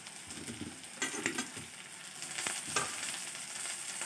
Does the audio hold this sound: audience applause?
no